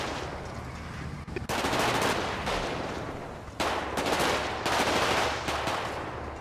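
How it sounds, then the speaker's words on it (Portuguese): Gunfire in a GTA RP session, dense bursts of automatic shots and rapid popping in two long volleys, loud and continuous with only a brief gap between them. "tá tendo um tiro"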